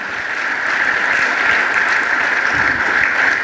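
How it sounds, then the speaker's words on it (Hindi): A crowd at a business event breaks into loud, sustained applause, dense clapping from many hands close by with no voices over it, holding steady throughout. "जोरदार ताली तो बजा दीजिए"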